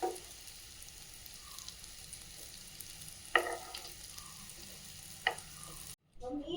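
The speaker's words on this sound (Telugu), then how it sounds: "నించోబెట్టి కాల్చుదాం వీటిని" Stuffed bitter gourds standing upright in a pan, roasting with a quiet, steady sizzle and a couple of sharp clinks from a utensil against the pan.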